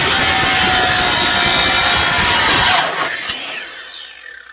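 A power tool cuts metal parts for a solar panel installation on a 2009 Jayco, with a loud, steady, harsh grinding whine that runs continuously close up, then winds down and stops with a few rattles.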